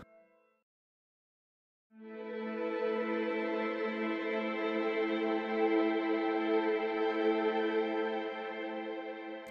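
Verdant atmosphere layer from the Fracture Sounds Trails library, playing over solo string textures: a sustained, harmonically rich tonal pad that swells in after a brief silence and holds steady and full to the end, with no voices.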